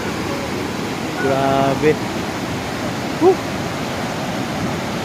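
Mindamora falls near Iligan and Talakag in the Philippines, a steady broad rushing roar of heavy falling water close by, with a man's short exclamation and brief voices over it.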